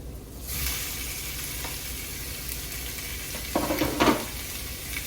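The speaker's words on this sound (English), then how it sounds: "So we're gonna add our cubed pork tenderloin." Cubed pork tenderloin sizzles steadily in a hot pan alongside sweet potatoes, with a louder burst of frying and a few scraping stirs partway through.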